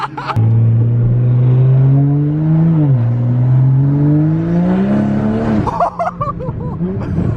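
A fast car revving hard at a dyno day, with a loud, close engine drone rising and dipping in pitch for several seconds before it drops and crackles, and faint voices near the end.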